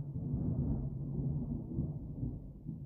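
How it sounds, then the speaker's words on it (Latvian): Distant thunder rumbles low and continuous after rain has stopped, a deep rolling growl without sharp cracks, steady throughout with no one speaking. "lietus ir pārgājis, un tagad ir tikai pērkons"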